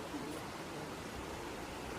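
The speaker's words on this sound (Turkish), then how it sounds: "Arkadaşlar burada dere var." A stream flows beside Sümela Monastery, a steady broadband rush of water that runs unbroken and close by, with no talk over it.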